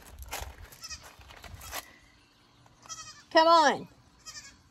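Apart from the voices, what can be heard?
baby goat bleating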